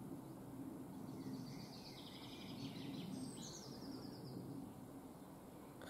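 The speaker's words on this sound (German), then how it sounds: "Und hier hört man nur die Vögel." Birds singing in the early morning around 6 a.m., chirps and warbles carrying faintly from a distance over a steady, broad outdoor hiss.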